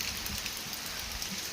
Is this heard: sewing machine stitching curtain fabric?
no